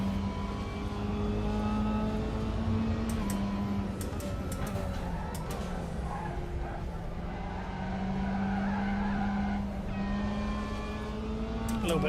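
A race car in the RaceRoom sim racing game drones at high revs while one tyre spins and squeals, a continuous loud engine tone with wavering screech and no talk.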